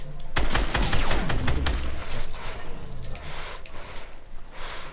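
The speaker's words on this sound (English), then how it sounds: "the guy doesn't stop shooting from up there" Enemy gunfire in Fortnite erupts in a loud, rapid burst of shots that thins into scattered cracks and echoing reports, with a sustained game ambience underneath.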